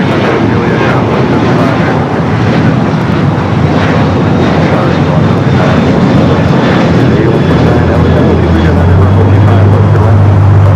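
An airliner, an American Airlines A321 among them, taxis at Los Angeles LAX airport with a loud, steady engine roar that holds constant throughout, and a low tone rises near the end.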